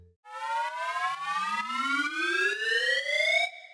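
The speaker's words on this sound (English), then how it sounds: "Still in the drop, there's this synth. It is basically a short riser." A short synth riser in a tech house drop climbs steadily in pitch for about three seconds. It is a bright, buzzy, siren-like tone with a faint rhythmic pulse, then cuts off abruptly.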